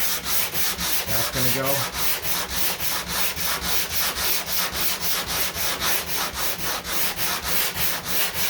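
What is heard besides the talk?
DA sander scuffing a 1969 Corvette hood body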